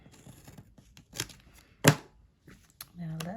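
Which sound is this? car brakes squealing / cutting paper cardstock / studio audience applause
cutting paper cardstock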